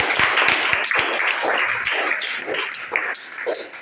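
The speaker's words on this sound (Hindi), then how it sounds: "इसके लिए ताली बजाइए।" A classroom of students applauds, giving a steady, dense patter of many hands clapping indoors. Several sharper individual claps stand out at the start.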